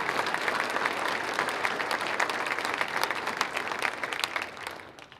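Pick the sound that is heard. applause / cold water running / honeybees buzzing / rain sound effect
applause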